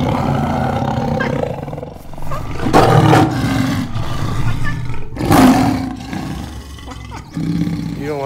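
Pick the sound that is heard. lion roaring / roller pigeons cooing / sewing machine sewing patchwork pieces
lion roaring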